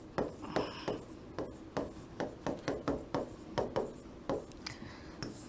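Chalk or marker strokes scraping across a board in quick repeated bursts, steady rhythmic writing close by with no talking.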